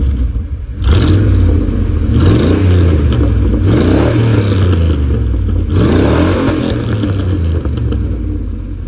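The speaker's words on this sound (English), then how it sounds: "I'll throw a clip of the exhaust like revving right here." A Chevrolet C1500 pickup with a freshly repaired exhaust, revved several times in close succession, the engine note rising and falling in loud, deep rumbling sweeps.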